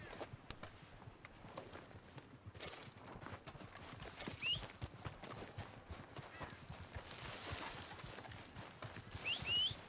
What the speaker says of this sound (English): I hear some horse action.